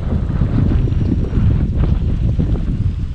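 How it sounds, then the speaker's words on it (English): Strong wind buffets a microphone on a fishing boat in a Mississippi bayou estuary, a loud, continuous low rumble and roar with no breaks and no voices. "The wind is really getting it right now."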